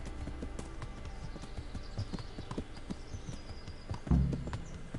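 Horse hooves clip-clop steadily in the medieval game Kingdom Come Deliverance, a continuous rhythmic patter of the ridden horse near and moderately loud, with a brief louder thump near the end and no talk.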